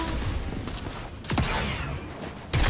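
Bursts of rapid gunfire in the Fortnite video game, several loud volleys at close range, the sharpest near the middle and again at the end, with no talk over them.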